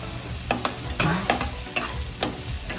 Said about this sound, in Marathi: आता आपला कांदा चांगला लालसर झालेला आहे आता आपण त्याच्यामध्ये हळद टाकणार आहोत